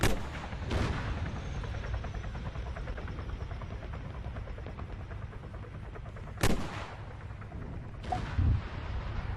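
A rocket is fired at a helicopter in the video game Arma 3: a loud sharp launch blast opens, another bang follows, then two more distant booms come later over a steady rumbling background.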